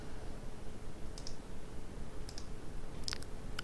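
Computer mouse clicks while pasting a website link, a few sharp, faint clicks spread over a few seconds against a steady hiss, with no talking.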